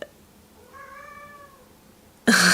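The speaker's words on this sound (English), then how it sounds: "don't know if you can hear my cat." A single soft cat meow, drawn out and fairly close, in a quiet room, followed by a sudden burst of louder noise at the end.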